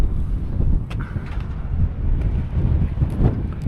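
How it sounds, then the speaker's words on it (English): Strong wind buffets the microphone in low, rumbling gusts that rise and fall continuously, with no voices. "it's windy out today"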